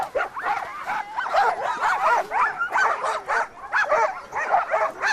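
Sled dogs bark, yip and whine excitedly before a run on a caribou trail, a dense, continuous chorus of overlapping high-pitched calls from several dogs close by, loud and restless throughout.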